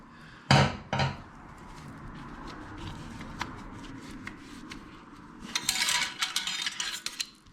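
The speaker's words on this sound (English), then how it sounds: "So I'm just going to loosen the Jubilee clip." Mechanic working a Jubilee hose clip on a motorcycle oil filter, with two sharp metallic knocks at the start, scattered small clicks, then a longer run of rapid clattering tool clicks near the end.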